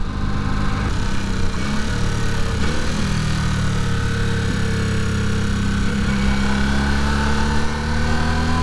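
A Honda CB250 Super Dream motorcycle engine runs loudly and steadily close by while being ridden, its tone climbing gradually as the revs build toward the end.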